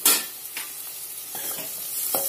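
Salted chicken frying in a pan gives a steady, soft sizzle. A sharp clatter opens it, followed by a few light scrapes of stirring, all close and without speech.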